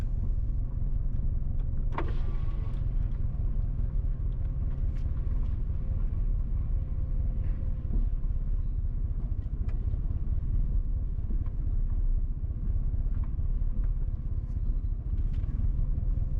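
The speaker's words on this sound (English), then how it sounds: "we are driving west on Boscobel Drive towards Almond Close in Boscobel Heights, St. Mary Parish" A car driving west along Boscobel Drive in Boscobel Heights, St. Mary Parish, Jamaica, giving a steady low engine and road rumble heard from inside the vehicle, with a faint brief rattle early on and no talk.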